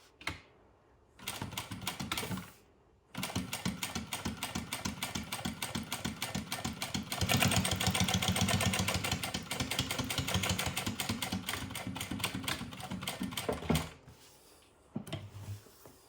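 A JACK industrial walking foot sewing machine stitches in rapid, even mechanical clatter for about ten seconds, preceded and followed by brief shorter bursts of stitching, close and loud.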